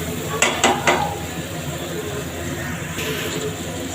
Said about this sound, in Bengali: আলুটা ভাজা ভাজা মোটামুটি হয়ে গেছে।